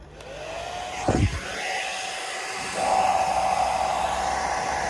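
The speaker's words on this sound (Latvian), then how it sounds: "jo šis mans mammas fēns" A mother's hair dryer blows steadily while being used to thaw snow off a car in freezing weather, its whine holding with a brief louder burst early on and a shift in pitch partway through.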